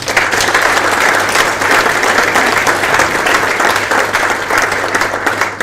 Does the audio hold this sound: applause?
yes